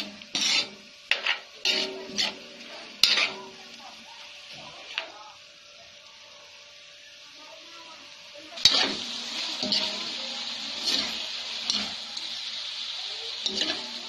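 Hot dog and ground meat sizzle in a pan with intermittent scraping and stirring strokes. The frying grows louder and steadier partway through.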